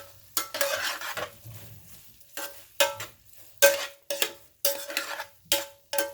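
A spoon scrapes and clanks around a pan of shepherd's pie filling seasoned with salt and pepper, a steady run of about a dozen sharp stirring strokes over a faint sizzle.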